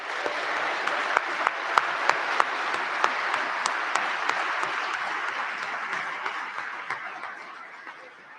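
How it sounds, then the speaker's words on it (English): Banquet hall audience at the 2021 Henry O. Flipper Dinner gives a round of applause for the hall staff, steady crowded clapping with a few sharper claps, gradually fading toward the end. "Join me for a round of applause."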